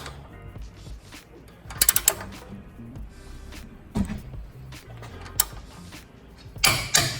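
A torque wrench ratchets and clicks while a trailing arm bushing bolt on a Mitsubishi Montero with Whiteline bushings is tightened, giving close, uneven bursts of mechanical clicking and clunks between quieter pauses.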